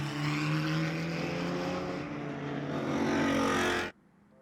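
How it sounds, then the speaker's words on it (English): GT4 race cars circulate in a pack behind the pace car under caution at a Pirelli GT4 America race in Canada, a loud continuous engine drone with layered tones that holds steady before cutting off abruptly near the end. "And their pace car looks like it's accelerating away"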